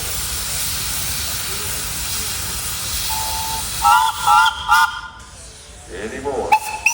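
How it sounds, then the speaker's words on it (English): A steam tractor at a parade vents a strong continuous hiss of steam, then sounds its whistle in several short, tonal blasts, with voices and crowd noise nearby. "Hey, you got a whistle."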